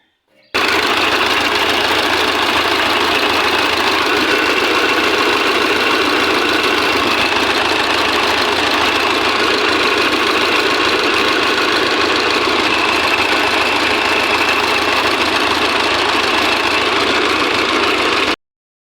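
YuMZ-6 tractor engine running with a newly fitted 1 kW generator, a loud, steady idling chug with mechanical knocking and vibration that holds constant for the whole stretch.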